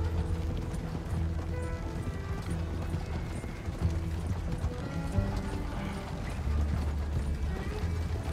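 A horse-drawn wagon rolls along in Red Dead Redemption 2, with steady clip-clopping hooves, creaking wooden wheels and rattling mechanisms heard continuously at moderate distance.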